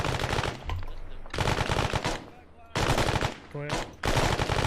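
Bursts of gunfire in the military shooter ArmA ring out loud and close, with rapid automatic volleys separated by short gaps; someone speaks briefly between the bursts.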